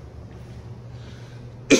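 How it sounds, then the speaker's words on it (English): A single short cough near the end, close and fairly loud, from a man touring a condo unit, following a stretch of quiet room tone. "Excuse me, I have a small cough."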